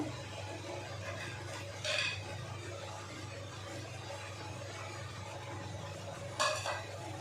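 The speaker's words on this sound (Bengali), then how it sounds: "ভেজে রাখা বড়িগুলো দিয়ে দেবো" Fried lentil dumplings (bori) dropped into a pan of simmering bottle-gourd vegetables, giving two short clattering bursts against a steady background hum of cooking.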